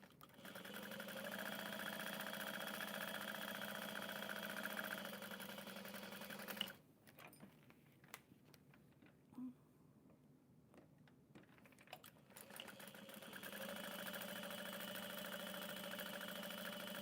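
A sewing machine top stitches a tote bag with a steady, fast mechanical whir, pausing for several seconds of quiet handling and faint clicks before running again.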